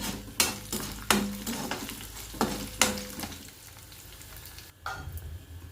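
Mustard seeds and dried red chilies crackle in hot oil, with sharp pops and spatters at irregular intervals over a steady low sizzle, fairly quiet and close.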